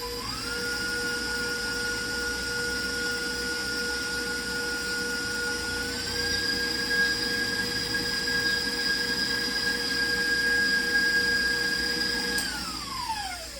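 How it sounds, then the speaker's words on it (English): A KitchenAid stand mixer runs steadily nearby while mixing buttermilk waffle or pancake batter, giving a sustained motor whine that shifts pitch slightly midway and winds down at the end. "Love my KitchenAid."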